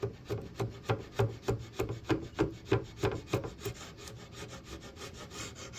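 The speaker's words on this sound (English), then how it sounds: "Here's an instance where I'm going to use my chisel." A wood chisel works an entryway table in steady, rhythmic scraping strokes, about two per second, fairly quiet and close, fading slightly toward the end.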